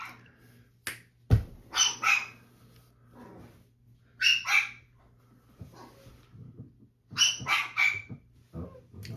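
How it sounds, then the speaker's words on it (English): Dogs barking indoors in the background, several sharp bark bursts in three spaced clusters, moderately loud, with no talk over them. "those are my dogs barking in the background"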